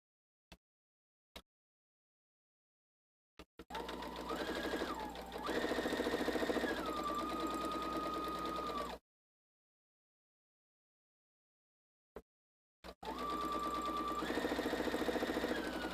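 A sewing machine runs in two steady bursts stitching nested quilt seams for a Disappearing Nine Patch block, each run preceded by a few sharp clicks, with the whirring motor shifting speed partway through and silence between.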